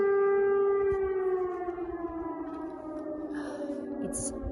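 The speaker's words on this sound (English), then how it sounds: "These sirens you can hear during the day," A loud air raid siren in Kyiv, Ukraine, during wartime wails steadily with a gradually falling pitch, and faint higher tones flicker in near the end.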